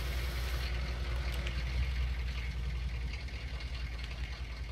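A sprayer tractor engine in need of a slight tune-up idles steadily with a low, constant rumble and a faint knocking texture, close and continuous throughout.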